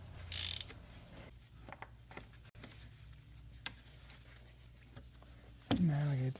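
A ratchet on a long extension turns to loosen the oil filter housing on a 2023+ Mercedes-Benz Sprinter van with the 2.0L high-output diesel, giving close, steady mechanical clicking with a brief louder burst near the end.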